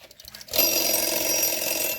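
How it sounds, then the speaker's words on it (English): A GE interval timer's bell rings loudly and continuously after a short quiet start, a dense metallic rattle that keeps going to the end. "This is a GE interval timer,"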